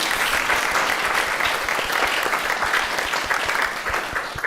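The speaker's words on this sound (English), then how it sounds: "Big applause to those friends." Sustained applause from an audience at a Sunday morning mountain retreat gathering, dense steady clapping filling the room at an even level throughout with no pauses.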